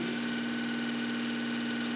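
A DC motor on a lab bench runs with a steady, even whine and hum, close and constant throughout, with no voices.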